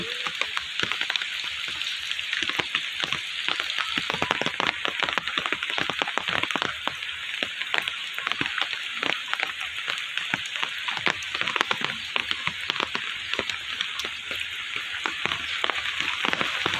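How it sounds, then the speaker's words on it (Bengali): Steady rain patters densely on a hard surface during flooding in Noakhali, Bangladesh, a continuous crackling hiss with scattered sharper drops and no voices. "আকাশে প্রচণ্ড মেঘ আছে এখনও বৃষ্টি হচ্ছে"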